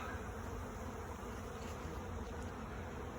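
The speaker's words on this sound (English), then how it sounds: "I have got a swarm." A swarm of honeybees pours out of a hive, a dense continuous buzzing hum filling the air, soft and steady with no voices.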